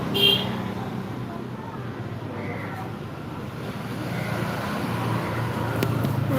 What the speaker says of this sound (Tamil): என்ன சவுண்டு அது ரோட்டில் வண்டி போகுது